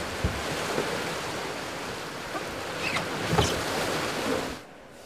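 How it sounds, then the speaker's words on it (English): A high volume of river water rushes over an object to form a standing surfable wave at Abingdon, Oxfordshire, in February, producing a loud, constant roar with occasional splashes before it suddenly drops away near the end. "This kind of river surfing is caused by a high volume of water rushing over an object to create a wave."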